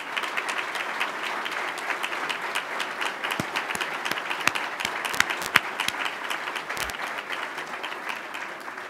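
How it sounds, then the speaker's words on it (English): Audience at a leaders' political debate in Thunder Bay applauding, a sustained, moderately distant wash of clapping with a few sharper nearby claps popping out in the middle. "we'll give them a round of applause as well"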